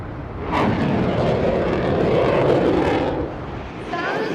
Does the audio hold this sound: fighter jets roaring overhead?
yes